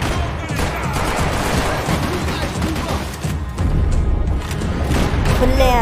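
Gunfire rattles continuously in Max Payne 3, dense overlapping shots and booms, loud and close throughout, with a rougher low-end burst toward the end.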